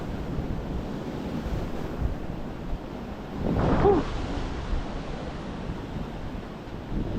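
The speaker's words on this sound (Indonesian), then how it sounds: "Ombaknya anjir." Ocean surf breaks on the shore of Nusakambangan island under gusting wind, with a steady wash of water and one heavier wave surging up briefly midway, no voices present.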